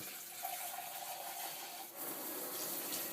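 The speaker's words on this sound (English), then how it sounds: "I will go ahead and just pour that over her" Water poured from a cup over a cat during a bath, a steady close splashing trickle that runs throughout, with a short dip partway through.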